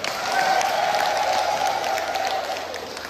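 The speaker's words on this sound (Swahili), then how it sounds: "Naomba mjipigie makofi makubwa." An audience at a religious talk claps in sustained, moderately loud applause for about three seconds before it fades slightly.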